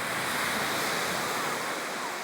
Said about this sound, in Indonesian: Lagi di pantai Somi, guys. Nih pantainya.